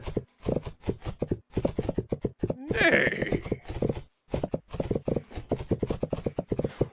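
Rapid galloping hoofbeats drumming in a fast rhythm, close and loud, with a horse whinnying briefly in the middle.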